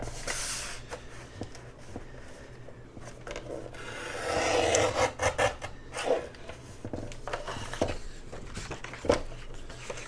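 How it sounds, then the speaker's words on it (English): A paper trimmer slices through a paper tag for a craft page, making a close, scratchy sliding cut in the middle with soft handling rustles and taps around it, and no talk. "So let's trim this out. I think I'll just use my trimmer."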